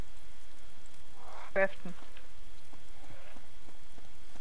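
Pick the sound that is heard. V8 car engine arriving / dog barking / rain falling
rain falling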